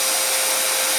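A freshly cleaned yoyo bearing spun very fast, around 30,000 RPM, producing a loud, dense, continuous high-pitched whir with a steady tone throughout the brief moment, and no talking.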